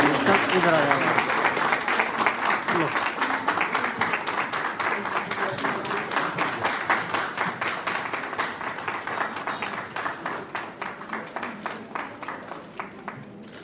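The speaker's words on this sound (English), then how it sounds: "can I have a huge round of applause" Sustained audience applause at a women's awards ceremony honoring a chief guest, a dense wash of clapping that is loud at first and then slowly fades over about fourteen seconds, with no talking.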